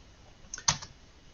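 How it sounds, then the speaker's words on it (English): A single computer keyboard key is pressed, giving one quick close click with a faint lighter tap just before it, against a quiet room background; no talking. "by hitting E on our keyboard"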